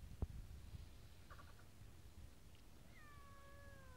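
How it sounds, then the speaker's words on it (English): A kitten meows outdoors in the sunshine, a faint drawn-out cry near the end with a brief soft call earlier, over quiet background noise; a parrot is also out nearby. "I've never heard you meow so much in your life."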